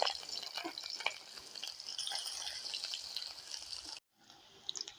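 Onion going into hot mustard oil in a village kitchen for jackfruit curry, crackling and sizzling with stirring scrapes for about four seconds before cutting off abruptly, then a faint tail with a few clinks.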